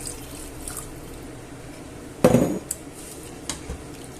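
Chicken gizzard and chorizo stew stirred in a pot, with a single clear scrape and clatter of a spoon against the pot, followed by a few faint knocks in a quiet kitchen.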